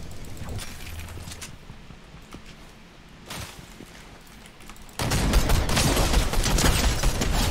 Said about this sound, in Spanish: Esta escopeta es la mejor, chavales